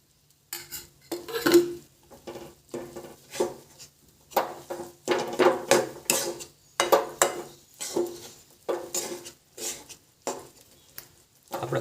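Flour roasting in ghee over a low gas flame for adadiya pak, stirred steadily with a utensil scraping the pan in rhythmic strokes, with faint clinks and a soft sizzle underneath, close and moderately loud, no talking.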